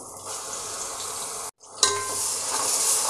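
Green chili paste frying in a pan, a close, steady hissing sizzle that drops out for a moment and then returns louder with a few sharp crackles and stirring scrapes.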